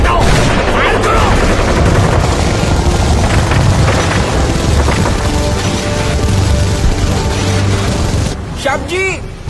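Gunfire sound effects in a live Kargil war tableau at a Ganesh festival display in Camp, Pune: loud, dense, continuous rattling bursts and booms under shouted voices, easing near the end.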